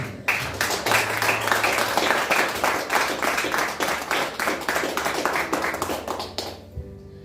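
A church congregation breaks into sustained applause, dense rapid clapping filling the space loudly for several seconds before it fades and stops abruptly near the end.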